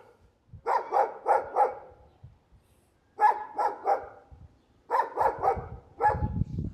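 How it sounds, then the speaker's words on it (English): A dog barks in quick bursts of three or four, pausing between volleys, fairly close and loud with nothing else much around. "the neighbor's dog has been constantly barking"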